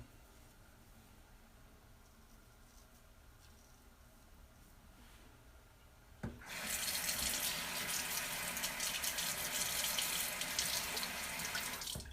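Quiet room tone for about six seconds, then a tap turns on and water gushes steadily into a sink to rinse a razor blade. The running water is close and loud until the end.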